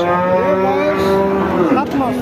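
A seven-month-old Jersey calf at a cattle market gives one long, loud, nearby moo that holds steady and then bends downward at the end, with faint crowd noise underneath.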